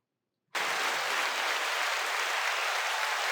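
A round of applause, likely a canned sound effect, bursts in abruptly after a short silence and holds at an even level until it cuts off.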